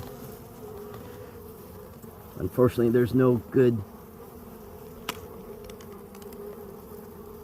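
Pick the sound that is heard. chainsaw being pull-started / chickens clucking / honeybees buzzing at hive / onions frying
honeybees buzzing at hive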